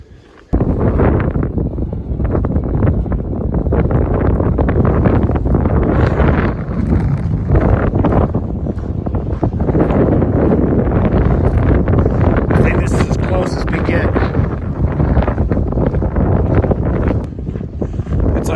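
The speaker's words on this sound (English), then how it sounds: "Just all the wind coming through." Strong wind roars steadily across the microphone, a continuous loud rush with gusty buffeting and flutter throughout.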